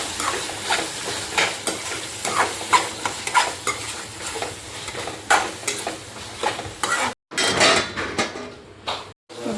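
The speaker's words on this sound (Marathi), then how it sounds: "हलवून घ्यायचं आपल्याला" Tomatoes, turmeric and homemade chutney stirred in a cooking pot for a quick home biryani, with repeated scraping strokes of a spoon against the metal over a soft sizzle, two brief gaps breaking the rhythm near the end.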